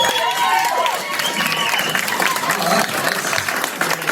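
A sideshow audience in a lecture room claps steadily and applauds throughout, with scattered cheers and voices mixed into the dense clapping.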